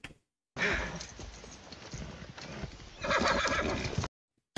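A horse whinnies loudly and its hooves clip-clop in a scene from Game of Thrones, a steady run of hoofbeats building to a louder burst near the end.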